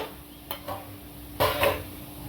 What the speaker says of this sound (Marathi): कोथंबीर पण चांगली परतून घ्यायची तेलामध्ये